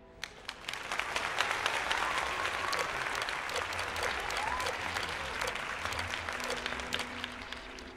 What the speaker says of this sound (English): Applause for sound designers here.